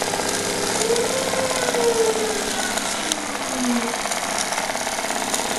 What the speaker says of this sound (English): Motor's still running.